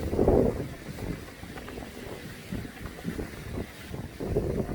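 Strong gusting wind on a golf course buffets the microphone with a low, rumbling roar, swelling loudest at the start and end, with no voices.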